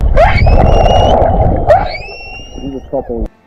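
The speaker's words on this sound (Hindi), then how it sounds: "2 व्हेल्स गाना गाने लगी, और वो भी खुशी में" Two whales sing after being rescued, loud, close rising and falling calls with long whistling tones and swooping cries, ending in a few short pulsed grunts.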